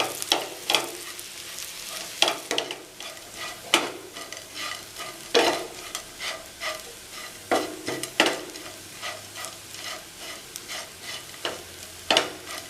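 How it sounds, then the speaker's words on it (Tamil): Leftover chapati pieces are stirred and roasted in a pan for upma, with repeated rhythmic spatula scrapes over a soft, steady sizzle, close and fairly loud, with no voices. "சப்பாத்தி நல்லா மிக்ஸ் பண்ணிடலாம்."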